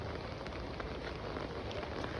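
Steady, even hiss of light rain falling on a surface, with soft scattered droplet patter throughout and no voices.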